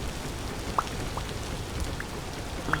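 Steady rain falls during the rainy season in a survival building game, a constant close patter with a few louder droplet taps scattered through it and no voices.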